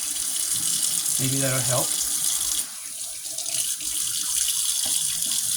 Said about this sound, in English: I'm going to run him under the water. Let's do some hot water.